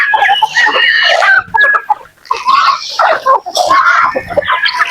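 Backyard chicks and chickens call in a busy, continuous chorus of close cheeps, clucks and squawks, with someone talking intermittently over them.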